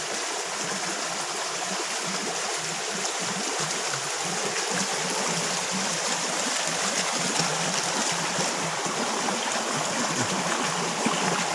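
A freshwater stream where algae is gathered rushes steadily nearby, with loud, continuous broadband babbling and splashing water and no talking.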